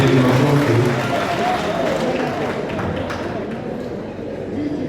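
A large outdoor crowd at a political rally in Gatundu South, Kenya, applauding and cheering as a dense, continuous roar of clapping and voices that stays loud throughout.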